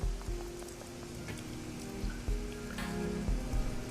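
Rain falls steadily in the Hong Kong setting of the video game Shadowrun: Hong Kong, a soft, continuous patter broken by scattered heavier drop taps, with no speech.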